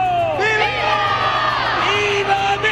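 Huge crowd of more than 200,000 people packing the Zócalo for the Mexican president's Independence Day grito, roaring and chanting "Viva México" in loud, sustained waves of massed voices.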